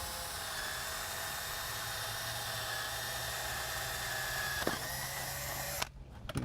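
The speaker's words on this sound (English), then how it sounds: "I've got a doorbell wire here, and I want to pre-drill that." Steady high-pitched whine of a power drill pre-drilling a hole for doorbell wire through a foam door surround, running continuously and close, then stopping abruptly near the end.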